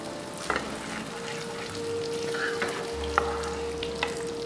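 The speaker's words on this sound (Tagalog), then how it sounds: "itutuloy ko lang yung pagpapan fry dito" Chicken cutlets for chicken parmigiana pan-frying in oil, a steady close sizzle and crackle with occasional pops and light clinks of a utensil, no voices over it.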